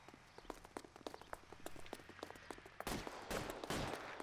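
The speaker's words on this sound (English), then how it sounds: "Oh, he's shooting at Roy." Gunfire from the video game L.A. Noire: a string of sharp shots in uneven bursts, denser and louder toward the end, heard alone without talk.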